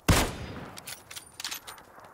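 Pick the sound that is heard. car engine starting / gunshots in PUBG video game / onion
gunshots in PUBG video game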